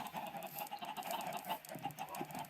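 Chicken Mimic dinosaur from the Minecraft Fossils and Archeology mod gives a continuous clucking, chattering call, fairly quiet and steady over a couple of seconds.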